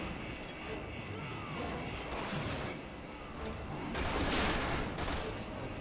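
Gunfire and grenade blasts in the Resident Evil 6 video game: a dense wash of distant shooting and rumbling explosions, with a heavier burst near the end and voices faintly talking over it.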